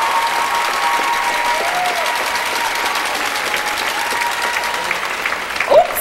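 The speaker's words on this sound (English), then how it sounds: "Ladies and gentlemen, another big round of applause." Steady audience applause fills a pageant hall at the 2009 Miss Michigan event, dense continuous clapping for the full stretch with a brief louder burst near the end.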